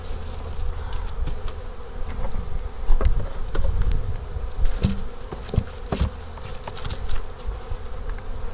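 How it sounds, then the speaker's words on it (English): Bees buzz steadily and loudly in an open hive box, a dense insect hum with scattered knocks and crackles from handling the box. "This is a box of bees. This is one thing I know. They're very active."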